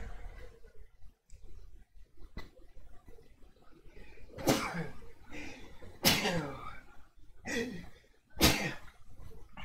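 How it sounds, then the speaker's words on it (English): A person sneezes and coughs close to the microphone during a live gaming stream, with several sharp explosive bursts that come after quieter breathing and small noises. "Sorry, I had to sneeze."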